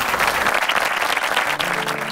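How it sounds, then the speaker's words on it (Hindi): Loud, dense applause from an audience at a motivational speech, steady throughout with no pauses. "जोरदार तालियां हो जाए प्लीज"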